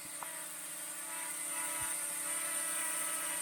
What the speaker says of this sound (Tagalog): Luluban na yung ating drone,